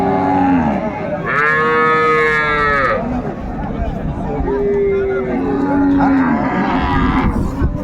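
A cow with calf moos loudly twice in long, drawn-out lows at a village cattle market, with a crowd chattering and bargaining in the background.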